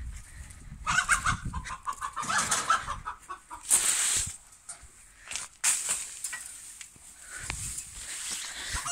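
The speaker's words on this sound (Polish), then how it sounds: "Teraz pokażę Wam te dwa koguty" Two roosters, one white and one ornamental silkie, cluck and make scattered farmyard calls at close range, with rustling and handling noises between the bursts.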